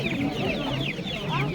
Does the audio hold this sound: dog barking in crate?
no